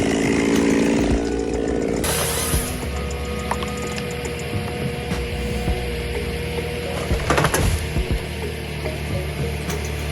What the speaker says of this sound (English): this chainsaw is crafted for those who need control and maneuverability, making it a favorite for tasks like clearing and limbing